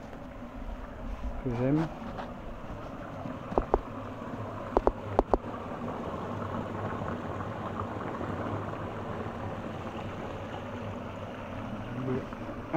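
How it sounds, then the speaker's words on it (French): Steady running water trickles at an old village wash house, a continuous gentle burble heard close, with a few brief knocks and a short spoken phrase. "Il y a ce petit bruit de l'eau qui court"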